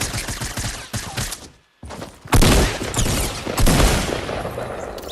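Minigun fire in the Fortnite video game: dense, rapid bursts of gunfire, loud and close, broken by a brief silence before sustained firing resumes.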